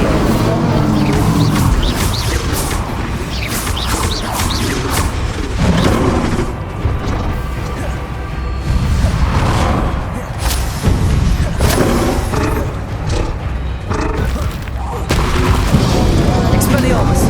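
Spell-casting combat in Hogwarts Legacy, with an Incendio fire spell among rapid casts: dense, continuous booms, thuds and whooshing blasts at loud, steady level, with voices calling out beneath.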